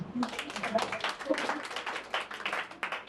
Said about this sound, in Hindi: एड़ा के लिए तालियां हो जाए